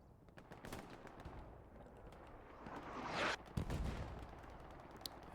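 Artillery fire in Hell Let Loose, a 36 vs 36 competitive WWII match: a steady wash of distant battlefield noise builds into a rushing swell, then a sharp blast lands near the end, with scattered gunfire cracks around it.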